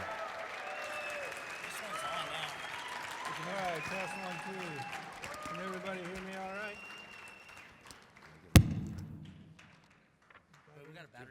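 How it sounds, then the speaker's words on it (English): A conference audience claps in a steady, moderate patter beneath a nearby voice talking. A sharp, loud thump from a microphone being handled cuts in near the end, then the room goes quieter. "while you guys are clapping"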